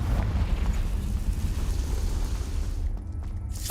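A Confringo fire spell blasts in Hogwarts Legacy, a loud rumbling explosion with a deep booming roar that sustains for several seconds before tapering slightly, with no voices over it.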